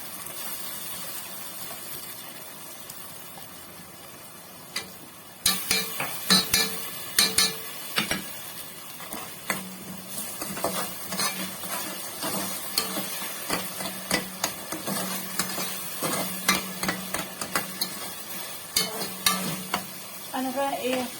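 Tomato paste is stirred into a pot of Egyptian mahshi filling, a spoon knocking and scraping against the pot in repeated sharp clinks over a soft sizzle, all loud and close with no talk.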